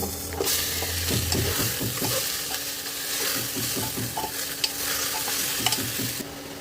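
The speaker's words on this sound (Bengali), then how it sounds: "এরপর রসুন ও কাঁচা লঙ্কা দিয়ে আর একটু নাড়াচাড়া করে মাটন দিয়ে দেব" Mutton frying in mustard oil with garlic and green chillies, a steady sizzle under repeated scraping strokes of a spoon stirring the pan, close and continuous.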